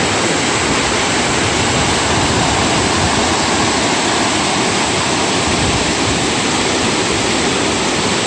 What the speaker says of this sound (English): this is a pretty dangerous area since the water is really high and raging